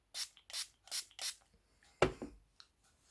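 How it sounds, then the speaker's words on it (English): Makeup Revolution Rose Fizz fixing spray misted close up in four quick, evenly spaced hissing spritzes, followed by a brief soft tap or rustle with no talking. "Spraying it again."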